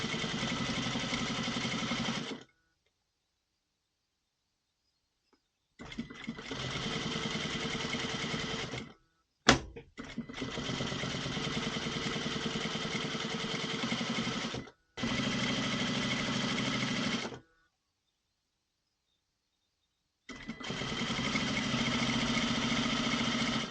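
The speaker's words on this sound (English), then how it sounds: "And then we will turn over and sew the other side." A sewing machine hums loudly through a seam on a waterproof softshell jacket in four sustained runs separated by silent pauses, with a sharp click midway.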